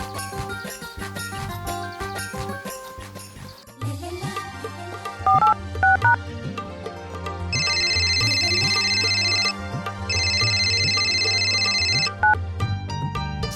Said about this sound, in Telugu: ఒకసారి స్రవంతికి ఫోన్ చేసుకుంటాను